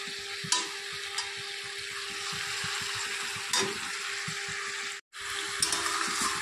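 Spinach cooking with a fish head and eggplant in a pan gives a continuous close sizzle and bubbling, with occasional stirring knocks and a brief pause near the end.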